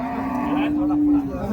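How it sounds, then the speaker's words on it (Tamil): A native bull at a cattle market in Uthangarai gives one long, steady moo that rises and holds before fading, close and prominent over the faint murmur of the market. "ஸோ நாட்டுக்காளைங்க."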